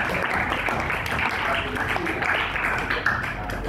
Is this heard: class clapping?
yes